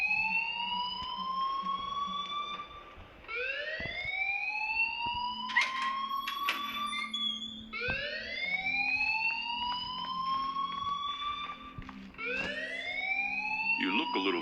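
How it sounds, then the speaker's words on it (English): An alarm rings in the video game Life is Strange: a loud electronic tone sweeping upward over and over in a steady, repeating cycle, continuing throughout. "please turn off that alarm since that's your job"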